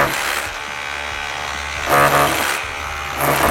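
A Festool BHC18 or KHC18 cordless rotary hammer drills in short bursts with a buzzing, steady whine that surges louder twice, with no speech over it.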